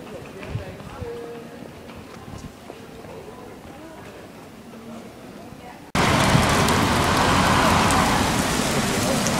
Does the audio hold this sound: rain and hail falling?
yes